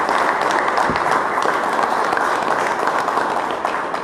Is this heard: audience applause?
yes